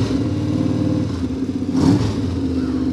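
A Shriner's car in a Christmas parade is revved repeatedly, its engine droning steadily at close range with a brief louder rev swell near the middle, no talk over it.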